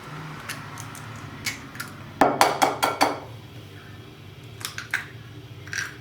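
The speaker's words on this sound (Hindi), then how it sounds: "वो डाल के अच्छी तरह चम्मच के साथ इनको अच्छी तरह मिक्स कर ले" Spoon clinking against a bowl while mixing a batter of eggs, flour, cornflour, red chilli, black pepper and salt, a run of sharp close taps in the middle with scattered lighter clinks before and after.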